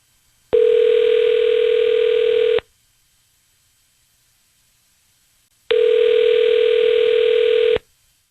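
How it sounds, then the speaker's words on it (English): Two long steady telephone tones, each about two seconds, separated by a pause, sounding as an outgoing call rings through to a listener for a radio station's on-air call segment. "Matt, I'm going to dial the number you gave me now to call Caroline"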